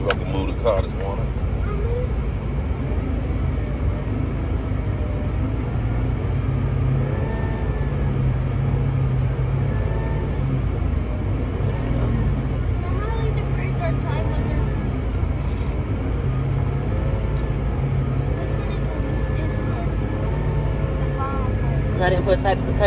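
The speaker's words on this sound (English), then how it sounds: "If I can move the car this morning." A car rumbles steadily throughout on a weekday morning drive to school, a loud, constant low engine and road drone with occasional revving swells, while voices talk over it.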